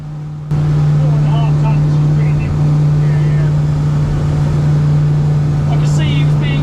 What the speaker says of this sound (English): here's the first of the big power turns to see how the boat handles the wake.